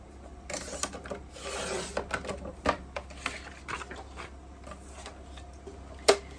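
A 2 by 12 inch paper strip for a scrapbook border is cut, giving a run of light scraping, ticking cuts with a few sharper snips, close and fairly quiet.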